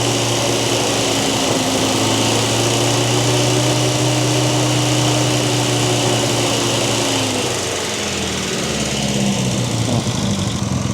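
A Sprite car engine revs steadily, a loud buzzing drone with rising and falling harmonics that drops back near the end, with no talking.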